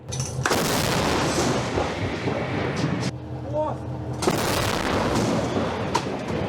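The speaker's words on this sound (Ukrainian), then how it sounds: "ще один снаряд 155-го калібру вилітає в бік окупантів" A 155 mm artillery gun fires with a loud, broad blast, followed by rumbling noise and another sharp report, with voices faintly in the background.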